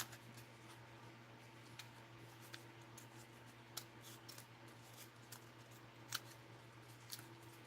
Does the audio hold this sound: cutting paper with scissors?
yes